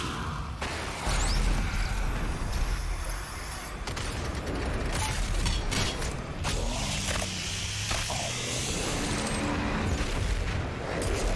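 A frag grenade fired and bursting in Doom Eternal, with booming blasts and mechanical clatter layered over a dense, loud game soundtrack that runs throughout.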